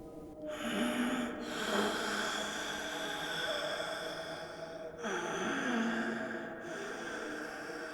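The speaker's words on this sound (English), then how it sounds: "I could hear low, guttural breathing." Low, guttural breathing in a dark, eerie setting, heard as slow, heavy snorting inhales and exhales at a steady pace, close and alone with no talk.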